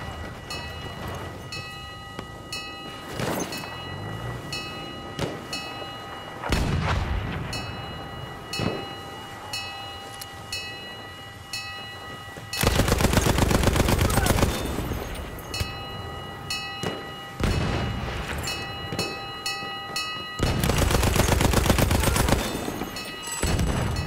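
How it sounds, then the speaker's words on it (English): Artillery barrage in the World War I shooter Battlefield 1: heavy booming blasts and crackling gunfire arrive in bursts, with two very loud sustained explosive stretches standing out over a busy, constant battlefield din. "Wait for the enemy artillery barrage to stop firing."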